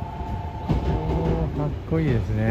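Limited Express Shinano train pulling into a platform at JR Nagoya Station, a steady rolling rumble with squealing brake tones rising and shifting, close and loud beneath a voice speaking over it.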